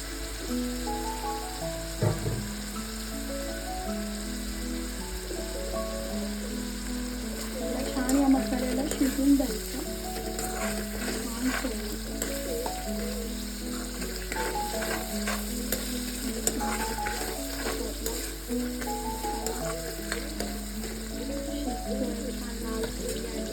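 Spice tempering sizzles loudly as okra is stir-fried, a steady close frying hiss with occasional stirring scrapes, while someone talks over it throughout.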